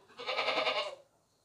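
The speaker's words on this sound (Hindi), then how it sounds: "खूबसूरत बकरा है। ये शोर इसलिए कर रहा है" A tall, long-bodied, healthy goat with a broad chest, freshly brought in among other goats for sale as a sacrificial animal, lets out one loud, close bleat that wavers for about a second and then stops.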